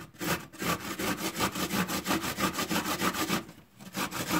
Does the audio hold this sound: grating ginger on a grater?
yes